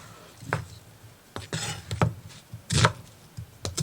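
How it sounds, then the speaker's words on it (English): Knife chopping red and Vidalia onions on a board, several distinct sharp chops spaced irregularly, close and moderately loud with quiet gaps between. "I have these onions which I'm going to cut up and blend."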